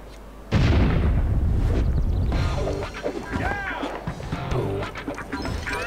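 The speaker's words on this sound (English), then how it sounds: "let's finally blow up this silver statue as well" A loud, booming explosion from Lego City Undercover, a silver statue blown up, bursts in suddenly and rolls on with crackling debris and rumble, followed by scattered pops and chirpy game effects.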